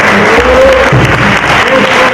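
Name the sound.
audience round of applause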